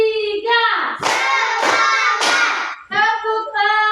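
Children in a classroom play a clapping game, with three sharp bursts of hand claps in a row between chanted voices.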